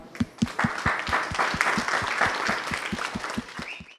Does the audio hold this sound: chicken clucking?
no